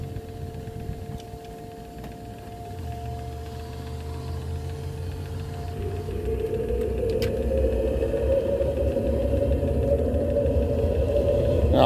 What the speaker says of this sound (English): We're going to go ahead and hook up the blower.